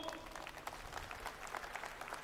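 Applause from a crowd at a political rally welcoming Ujjwal Nikam, a steady patter of clapping, faint and distant, throughout the brief moment.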